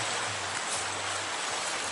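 Steady rain pouring down during a fishing outing, a dense, even hiss that fills the whole clip with no talking over it.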